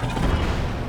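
A rocket fused to a shield fires in Zelda: Tears of the Kingdom, a short loud rumbling blast with a low, whooshing roar.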